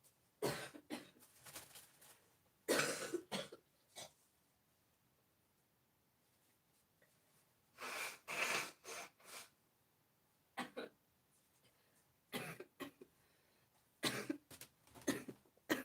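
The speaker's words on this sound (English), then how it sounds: "If I will continue to have this cough" A person coughs in several separate bursts, some single and some in quick clusters, close to the mic with quiet pauses between fits.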